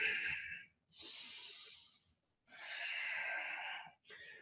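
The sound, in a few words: breathing through the nose during yoga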